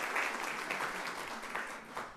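Audience applause for a speaker at a panel event on Ohio charter schools, a steady wash of clapping from a crowd, moderately loud and continuous for a couple of seconds.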